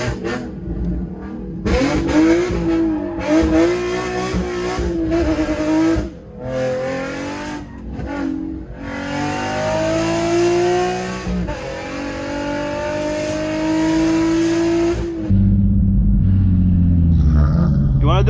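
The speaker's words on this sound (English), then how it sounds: "I was just actually doing some donuts right now and I was like somewhat practicing my drifting" Nissan 350Z fitted with a Z1 Y-pipe revving hard while doing donuts and drifting, a loud rising and falling engine wail with tire noise, ending in a deep rumbling roar.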